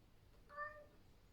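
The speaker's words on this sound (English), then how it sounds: "my cat is very chatty today" A single short, faint meow from a house cat, a brief tonal call heard alone against quiet room noise.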